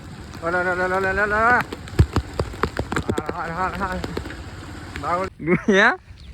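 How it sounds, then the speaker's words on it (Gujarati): Rain falls during a storm in Gujarat, a steady broadband patter running beneath loud, close voices talking throughout. "વરસાદ ચાલુ થઈ ગયો"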